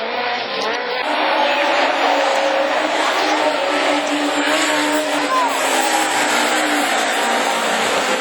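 Rallycross Super 1600 race cars at a 2011 European championship heat start roar continuously, engines revving loudly with tire noise and a commentator speaking over the dense, steady engine wash.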